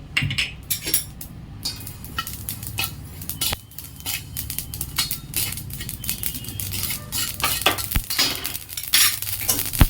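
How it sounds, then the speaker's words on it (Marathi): A spoonful of sesame seeds roasting in a pan while cooking Maharashtrian onion bhaji, with steady close metallic scraping, clinks and rattles of a spoon against the pan running continuously throughout. "ते एक चम्मच तीळ भाजून घेते"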